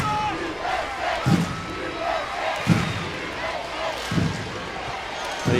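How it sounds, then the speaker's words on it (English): A big stadium crowd at a women's soccer friendly chants and cheers the team off in a rousing send-off, with rhythmic thumping stomps or claps every second or so under a commentator's voice. "They are being given a rousing send-off here."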